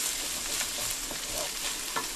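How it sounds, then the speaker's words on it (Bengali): Chopped mushrooms being stirred into a sizzling chicken and prawn stir fry, faint frying hiss with soft scraping stirs and light clinks, fairly quiet and without talk. "এর সঙ্গে আমি দেখুন এখন এই মাশরুমটাকে মিশিয়ে নেব।"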